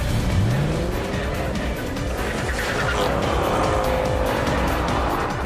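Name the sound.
Mercedes S-Class and BMW drag race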